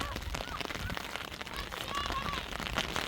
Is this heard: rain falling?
yes